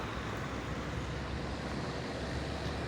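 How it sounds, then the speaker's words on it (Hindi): Fast-flowing rainwater rushes through a storm drain beside an expressway in Islamabad after heavy rain, a faint, steady broadband roar heard from a high vantage point, without a break and with no talking. "बहुत तेज़ बहाव है इस पानी का।"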